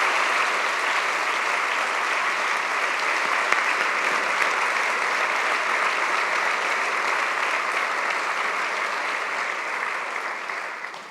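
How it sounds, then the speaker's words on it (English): A large audience at the GESF 2018 conference closing plenary applauds in a long, even, sustained roar of clapping that holds steady before easing slightly at the end, with no talking over it. "could I ask for a round of applause for our incredible"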